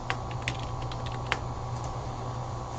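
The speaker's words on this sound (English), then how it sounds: "Type in your name." Quick light keystrokes on a computer keyboard as a name is typed, a dozen or so clicks in an uneven rhythm, close and fairly soft over a steady low hum, with one louder tap near the start and another partway through.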